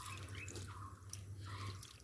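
Water trickles and drips softly onto soil in pots holding date seeds, a faint continuous splashing with small droplet sounds and no voices.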